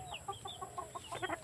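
A gold-feathered chicken pullet clucks close by in a quick series of short, bright calls, loud and alone with no talk.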